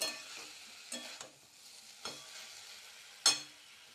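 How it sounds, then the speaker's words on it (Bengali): The lid comes off a pan of papaya ghonto and it is stirred. A few soft scrapes and taps sound over a faint simmer, then one sharper metallic clink near the end. "এবার ঢাকনাটা তুলে দেব, একটু নেড়ে নেব"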